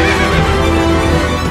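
A loud, close horse whinny, a single drawn-out neigh with a shaky, vibrating pitch that fills the moment.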